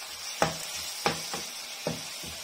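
Minced meat fries in a pan with ginger and garlic, making a quiet, soft sizzle, while a spoon stirs and scrapes it with a few sharp clinks.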